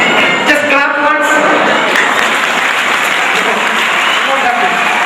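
A school annual day audience claps together at once, a dense loud burst of applause that holds steady throughout, with some voices mixed in.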